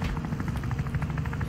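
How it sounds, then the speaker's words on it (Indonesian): Helicopter in a video game, a continuous close rotor thump with rapid, even blade chops over a rumbling engine drone, steady and loud throughout. "Helikopter."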